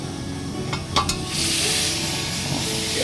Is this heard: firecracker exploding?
no